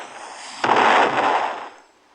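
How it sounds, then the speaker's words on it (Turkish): A bomb explodes in the Roblox sky wars video game, a single sharp burst followed by a crackling, hissing roar that fades over about a second, loud and close with no talk. "ben bombalıyorum şu anda"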